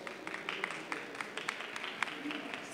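An audience applauds at a business pitch marathon event, a steady wash of many hands clapping at moderate distance with scattered sharper claps, fairly quiet and continuous throughout.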